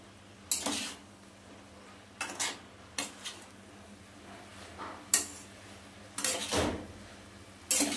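Pumpkin greens are stirred in a cooking pan, with several separate metallic scrapes and clinks of a spoon against the pan spaced irregularly over a quiet background, close and fairly sharp, with no talking.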